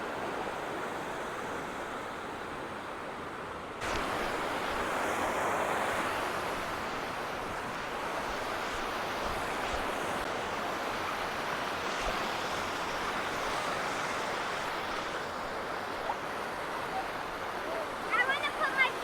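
An Appalachian mountain waterfall, a broad steady rushing roar of falling water that swells louder after a few seconds and holds, with some wind buffeting on the microphone.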